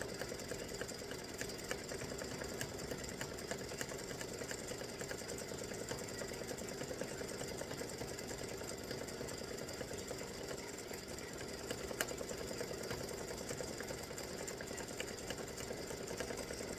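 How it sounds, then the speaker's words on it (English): Embroidery machine stitching a waffle cone design for a patriotic ice cream tic tac toe set, giving a steady, fast mechanical whir and rapid needle tapping that runs on evenly and fairly quietly throughout. "this is the waffle cone that is stitching"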